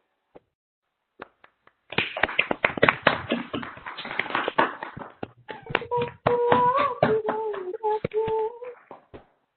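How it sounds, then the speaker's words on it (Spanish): Participants in an online video call clap into their microphones, producing choppy, uneven bursts of claps and taps that cut in and out, with a brief tonal hum mixed in partway through. "Les pido activen sus micrófonos y le regalen un fuerte aplauso para ellas"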